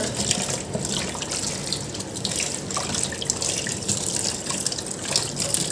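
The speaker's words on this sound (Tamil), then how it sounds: "ஃபஸ்ட்டு ஒரு ரெண்டு அலசி அலசி ஊற்றிடணும் அந்த பிளட்டெல்லாம் இருக்கும்ல அதனால் ஃபஸ்ட்டு நல்லா அலசி ஊற்றிடணும்" Tap water runs steadily into a sink as raw chicken pieces are rinsed, a continuous splashing gush with drips, close and moderately loud with no talk.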